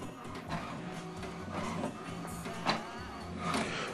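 An HP Deskjet all-in-one printer runs an alignment page, its mechanism whirring and clicking in an uneven rhythm of carriage sweeps and paper feed, close and moderately loud.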